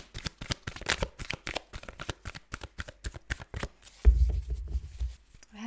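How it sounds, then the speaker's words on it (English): A deck of tarot cards is shuffled close to the microphone: rapid, rhythmic riffles and snaps repeat steadily, ending with a duller rumbling shuffle. "I had a couple of people saying that I'm shuffling too loud or too close to the microphone."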